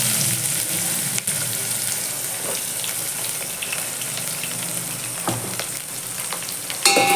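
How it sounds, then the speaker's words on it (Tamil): Chopped onion sautés with garlic in a hot pan for a tamarind okra curry, sizzling loudly and steadily up close, with occasional stirring scrapes and a sharp clatter near the end. "இதோட ஒரே ஒரு ஆனியன் மட்டும் கட் பண்ணி வச்சுருக்கேன், அதை போட்டுக்கலாம்"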